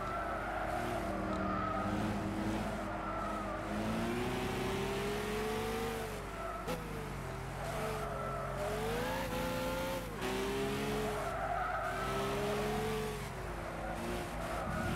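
A Corvette with 800 horsepower in Gran Turismo 6, its engine droning loud and continuous, pitch rising and dropping repeatedly as gears shift up and down, no voices.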